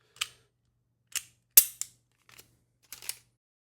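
PSA Dagger pistol slide being worked off the frame, a handful of short sharp metallic clicks and clacks spaced about half a second apart, close and fairly quiet, with no talk.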